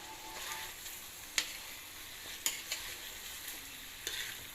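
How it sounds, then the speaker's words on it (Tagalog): Mushrooms sizzle quietly in a pan while a utensil stirs them, with a few sharp scrapes and taps against the pan. "Halo ang mushroom hanggang mag-brown."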